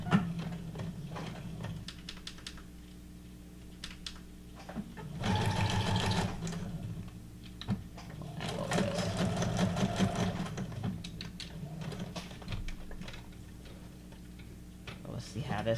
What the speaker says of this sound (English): we are going to just rustically sew these pieces on here at the bottom